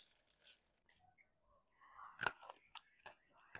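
Crunchy garlic sev, deep-fried until golden for a Diwali faral snack, is bitten and chewed with a series of quiet, close crisp crunches. A few louder bites come in the second half.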